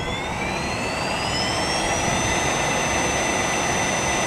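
A Sturtevant #6 blower driven by an Allis-Chalmers 15 HP motor starts up. A loud, steady rushing roar carries a high whine that climbs in pitch as it spins up, then holds even.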